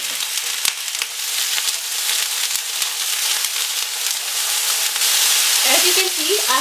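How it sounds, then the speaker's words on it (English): Potato and cauliflower pieces fry in oil in a pan over medium-high heat, giving a steady, loud sizzle with occasional stirring clicks and scrapes, no talking. "first we'll cook aloo and gobi in a separate pan. We'll cook them on medium-high heat."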